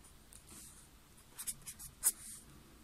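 A pen writes digits on paper while a cube of a two-digit number is worked out by hand, giving a few soft, close scratchy strokes in a quiet room with no talking.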